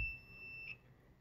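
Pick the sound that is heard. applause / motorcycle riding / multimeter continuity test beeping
multimeter continuity test beeping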